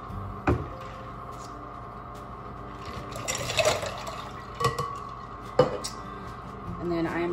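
Water is poured and splashed into a bowl of cold water with ice, with clinks of a dish and spoon and a few sharp knocks, close and moderately quiet with soft background sound.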